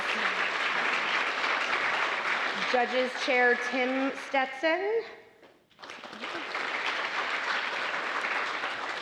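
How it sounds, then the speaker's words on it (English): An audience at a dairy festival scholarship pageant applauds the technical director, steady clapping filling the room, with someone speaking over it midway before the clapping briefly drops out and then resumes. "Let's give Dave a big round of applause."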